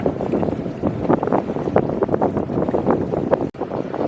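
Wind buffets a sailboat under sail in Indonesia, a loud gusty rush with rumbling microphone noise and rising and falling swells of sound, heard close.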